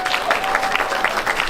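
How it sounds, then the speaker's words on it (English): An audience at a boxing event applauds the team, a dense, continuous patter of many hands clapping close by, with no talk over it. "Give yourselves a big round of applause"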